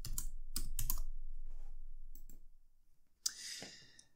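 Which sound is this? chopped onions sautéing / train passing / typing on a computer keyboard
typing on a computer keyboard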